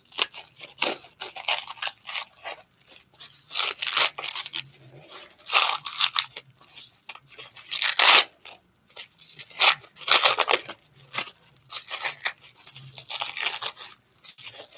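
Crinkly wrapping being peeled and torn off a puzzle-piece-shaped soap bar, close and intimate, in uneven bursts of crackle and rustle with short pauses between.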